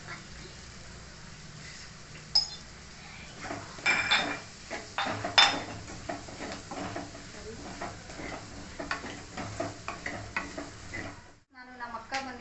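Chopped onions for a paneer gravy fry in a pan while a spoon scrapes and stirs them, with a steady close sizzle, irregular metallic clinks and scrapes, and a short quiet break near the end.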